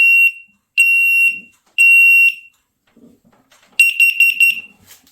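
SENSEREO MSC-1 smoke and CO alarm beeps loudly during a test, three long piercing tones followed by a rapid cluster of shorter beeps, close and clear with no talking.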